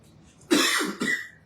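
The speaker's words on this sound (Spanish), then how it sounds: "perdón que estoy tosiendo" Two quick, harsh coughs in succession, close and fairly loud, against a quiet background.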